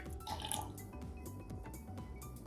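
Fermented fruit water is poured from a bottle for a poolish, a soft, steady trickle with faint gurgles and drips that runs continuously and quietly throughout.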